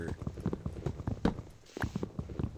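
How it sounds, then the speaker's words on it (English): Repeated hollow clip-clop thuds, like hooves scrambling and stepping on wood, in a fast irregular rhythm from Minecraft survival gameplay, fairly close and steady. "Seriously, sounds like horses trying to climb trees"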